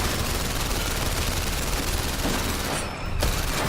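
Dense, continuous gunfire rattles without a break as a player shoots at a vehicle in the VR game London Heist. The bursts are loud and close, with a brief dip near the end.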